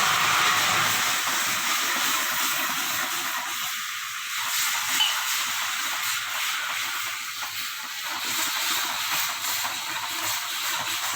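Caramel for makhana kulfi hisses steadily in a pan after a little water is added, a constant close steamy sizzle with faint bubbling and no talk.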